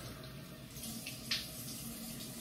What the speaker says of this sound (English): let's get the face wet